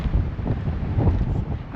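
Wind gusts across the microphone on an open hilltop, a loud, steady buffeting roar that swells and eases over the short stretch.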